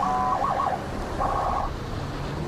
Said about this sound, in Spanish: Un sistema de sirena para llamar la atención y que la policía llegue antes.